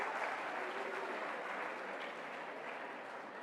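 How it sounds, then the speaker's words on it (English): An audience at a university research conference applauds a student's tableau performance, a steady, dense wash of clapping from a large crowd heard from a moderate distance that holds for the full few seconds. "Applause for a student."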